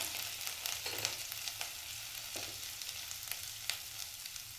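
Ginger dropped into hot oil with fried cumin, nigella seeds and asafoetida gives a soft, steady sizzle with light crackles and stirring taps, fairly quiet and without talk.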